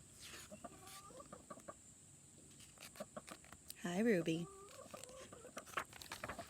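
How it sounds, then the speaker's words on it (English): A visiting chicken clucks nearby during a quiet indoor reading, with a short burst of loud clucks midway among soft scattered sounds and occasional speech. "We're getting a chicken visitor."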